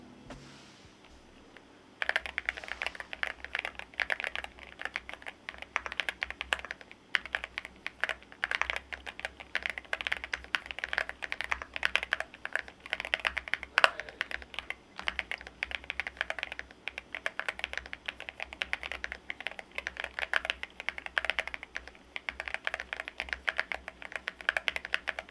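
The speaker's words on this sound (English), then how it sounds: "Let's have a quick hear on the typing test first." Rapid, steady typing on a Cidoo V68 Alice-layout mechanical keyboard, close up, with crisp clacky keystrokes running continuously after a brief quiet start.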